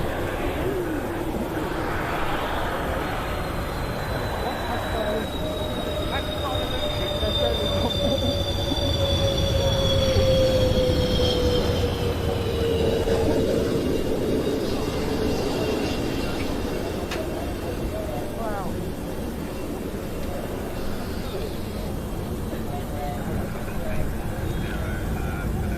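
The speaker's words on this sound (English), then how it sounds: "the first of the JF-17s is about to touch down" A JF-17 fighter jet lands at a major military airshow, its engine giving a steady broadband roar with a high whine that slowly drops in pitch as it passes and touches down.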